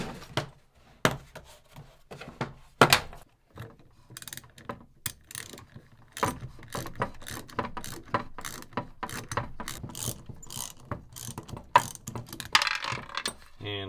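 Socket ratchet working on the motor housing of an Aprilaire home humidifier, close rapid clicking in uneven bursts with sharp metallic knocks and short pauses between runs.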